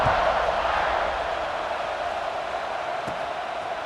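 A college football video game stadium crowd buzzes after a score, a steady, dense roar of massed voices holding at an even level throughout.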